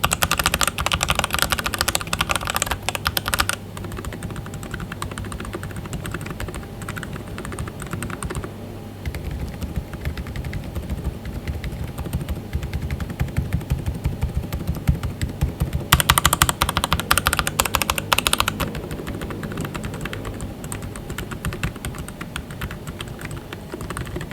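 Rapid, muted keystrokes from a keyboard with AKKO Fairy and Penguin silent mechanical switches, in continuous bursts with short pauses and a louder flurry partway through; no voices.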